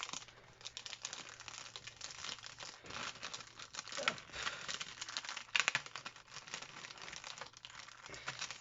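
Paper being cut with a scrapbooking punch mechanism set while making a Polaroid-style craft: faint crinkling, rustling paper handling and a few small sharp clicks, low in level and close up.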